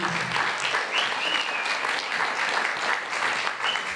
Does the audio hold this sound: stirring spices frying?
no